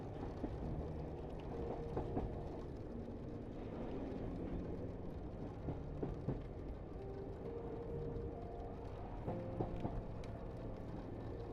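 A night train rumbling over the rails on the way to Sicily, a low continuous drone with faint rhythmic clacks and occasional squealing tones, steady and muffled as if heard from inside a carriage.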